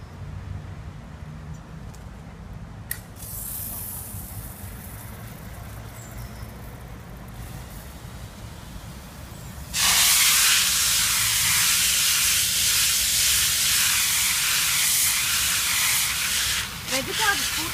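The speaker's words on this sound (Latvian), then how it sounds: "Un tagad skalošana. Skalošanas process." A pressure washer rinses during a car wash: after a stretch of quieter background rumble, a loud, steady spraying hiss starts partway through and runs to the end.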